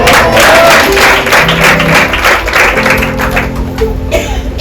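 A crowd at a Christian prayer service claps steadily throughout, dense applause filling the space with a few murmured voices underneath.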